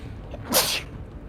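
A single sharp sneeze bursts out, brief and close, against a quiet background.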